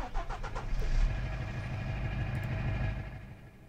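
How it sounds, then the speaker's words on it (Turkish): A Scania R500 truck engine in a truck-driving video game gives a low, throaty rumble that swells at the start, then settles into a steady idling drone before easing off. "Burada da arka planda çalışma sesi kalıyor ya, dur. Heh, motoru kapatalım."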